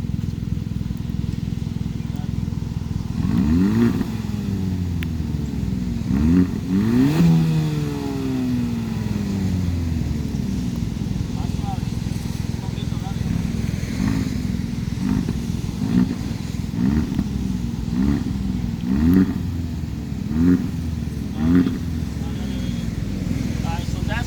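A stock Hyundai Elantra Sport with a DCT automatic revs in a series of short blips, each rising and falling, fairly close but moderate in level over a steady idle, with faint talk in the background.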